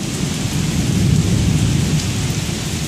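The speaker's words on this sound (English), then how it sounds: "Seconds from lightning to thunder." Heavy rain pours steadily onto the ground during a derecho storm in Crestwood, Kentucky, while deep thunder rumbles underneath throughout, close and loud with no talking.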